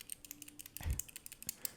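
Small sharp plastic clicks and taps from fingerboard trucks in quick irregular succession with one duller knock, close up and quiet.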